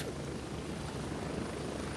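Helicopter in the Grayzone Warfare video game, a steady loud rotor and engine drone filling the whole stretch without a break, close and continuous.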